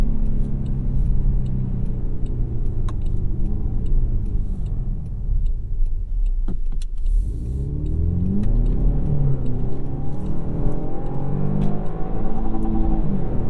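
A 2021 Jaguar XF engine in sport mode revs loudly and continuously from inside the cabin, its pitch dipping briefly near the middle before climbing again toward the rev limiter.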